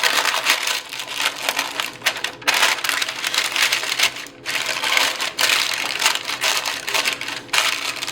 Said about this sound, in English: Then I'm going to line it with a sheet of parchment paper.